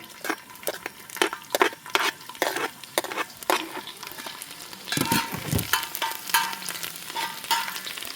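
Garlic sizzles in hot oil in a pan, crackling close and loud with irregular bursts and spatters, stirred with a few scraping clatters partway through. No one speaks.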